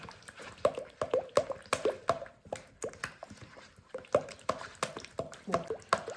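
Wet, squelchy stirring of ayran cookie dough after a pinch of salt goes in, rapid rhythmic squishes and drips, close and steady throughout, with no talking.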